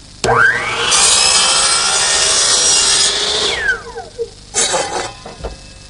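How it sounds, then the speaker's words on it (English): A hand saw in a miter box set at 4 degrees cuts through the end of a wooden marble chute, one loud, continuous rasping stroke sequence up close, followed by a few short scraping strokes as the cut finishes. "So I'm back over at the miter box, which I'll set on 4 degrees. Cut one end of the chute."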